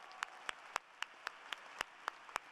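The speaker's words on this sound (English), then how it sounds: "Let's give our faculty a big round of applause." A single pair of hands claps about ten times at a steady pace at an engineering school commencement, each clap sharp and distinct against a quiet background.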